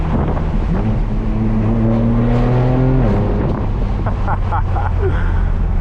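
A loud BMW M4 F82 engine revs up close through rising gear pulls, then drops and climbs again, with heavy wind buffeting throughout.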